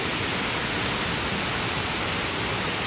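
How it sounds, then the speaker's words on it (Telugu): A waterfall in an outdoor nature spot pours out a steady, even broadband roar of rushing water that holds constant for the whole stretch, with no voices. "వాటర్ సౌండ్ ఎంత బాగుందో చూసేయండి."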